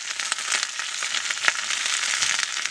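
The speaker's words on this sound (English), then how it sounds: "Tossing this in our sesame oil." Chilean sea bass tossed in sizzling sesame oil, a continuous close crackling fry with scattered sharp pops, steady and fairly loud with no talking.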